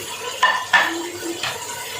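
Onions tipped into a pot where meat is already frying, giving a few distinct clattering knocks of metal and utensil against the pot with a light sizzle beneath, near and fairly loud.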